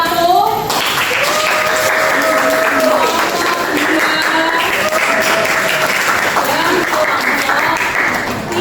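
Classroom applause for a student group during a maths lesson, a steady burst of many hands clapping close by that carries for several seconds before fading.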